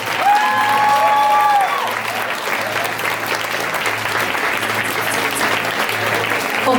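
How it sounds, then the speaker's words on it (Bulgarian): Wedding guests at a Bulgarian celebration break into sustained, loud applause, a dense clatter of many hands that continues steadily after a voice fades out at the start. "Слабо ръкопляските за шарената китка!"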